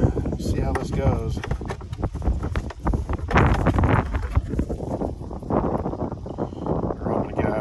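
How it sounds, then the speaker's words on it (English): Steady wind rumbles and buffets the microphone throughout at the water's edge, with a voice talking over it and some splashing or knocking noises while testing a Pro Boat Sonic Wake 36 RC boat. "Windy today, so see how this goes."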